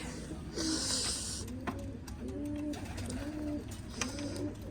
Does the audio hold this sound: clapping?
no